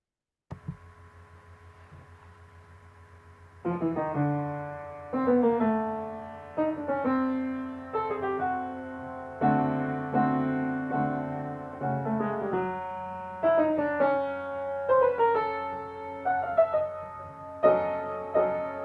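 Piano notes descend chromatically step by step in a series of struck phrases over a low steady hum, sounding close and moderately loud.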